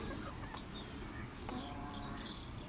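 Hens on a small farm flock with peafowl cluck in short bursts against a steady, busy background, with faint scattered calls heard at a moderate distance.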